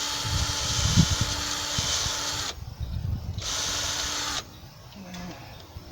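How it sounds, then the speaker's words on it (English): A Craftsman power drill fitted with an auger bores a hole in garden soil, whirring loudly in two close bursts with a short gap between them and a grinding churn underneath. "I'm taking my my Craftsman drill, and I got this auger for it, and I just drill a little hole there."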